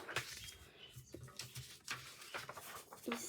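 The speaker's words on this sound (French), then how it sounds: "on entend mes oiseaux" Pet birds chirp and coo indoors, faint scattered calls and soft patter close by in a quiet room, with bits of low voice in between.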